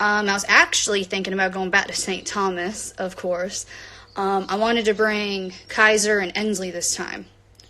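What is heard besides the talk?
No everyday noises stand out.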